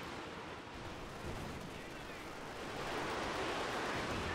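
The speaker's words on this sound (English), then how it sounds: "And here comes the first barrage." An artillery barrage in a WWII strategy game: a dense, continuous rumble of distant shelling that grows slightly louder and fuller toward the end, with no separate blasts standing out.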